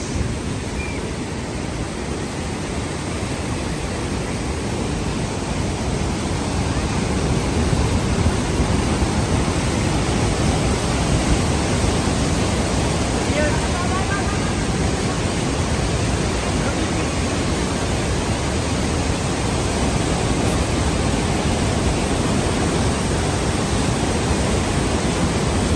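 Niagara Falls thundering as a steady, loud, broadband roar of falling water, close and continuous without a break, with a faint voice now and then beneath it.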